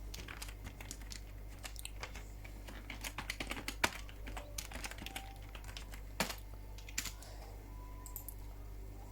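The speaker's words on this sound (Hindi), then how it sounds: "यहाँ पर मैं अपना पासवर्ड एंटर करूँगा" A password typed on a computer keyboard: a quiet, irregular run of soft key clicks and taps, near, over a low steady hum, with no talk.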